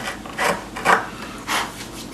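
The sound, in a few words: carriage bolt pushed through a hole in wooden benchwork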